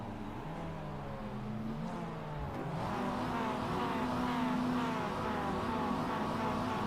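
Mazda MX-5 race cars in the iRacing sim at the Nürburgring Sprint circuit rev their engines on the grid before the start, layered buzzing revs rising and falling continuously, loud and steady with no talk.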